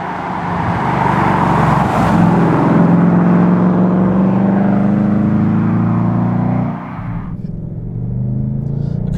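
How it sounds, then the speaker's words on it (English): A Ford Mustang GT fitted with a Kooks exhaust drives by loudly, its V8 rumble rising in a steady pull before easing off, with the engine note dropping toward the end. "Other modifications include the Kooks exhaust, because, well, everybody wants their Mustang to sound a little bit vocal"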